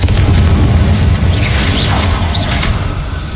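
A Confringo blasting spell explodes in the video game Hogwarts Legacy, a loud, sustained booming roar with heavy low rumble that holds steady for several seconds, with faint high whooshing streaks over it.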